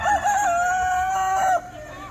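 A rooster crows once at a county fair in Sevierville, Tennessee, a loud, close cock-a-doodle-doo lasting about a second and a half, with fair crowd murmur continuing underneath.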